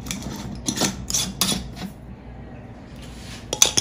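A boiled egg in a little water rattles inside a closed glass jar as it is shaken in a kitchen, giving bursts of clinking and knocking with a short quiet pause before a final shake.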